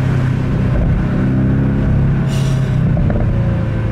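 Porsche 718 Boxster GTS four-cylinder turbo engine accelerating hard, a loud continuous low growl with rising harmonic tones and a brief breathy burst midway, no voices.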